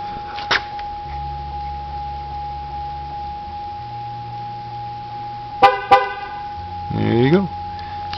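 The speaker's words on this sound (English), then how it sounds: "should get a double horn honk." A car horn gives two short honks partway through, confirming tire pressure sensor registration done with a TIPS tool on the left rear tire, heard over a steady tone and low background noise.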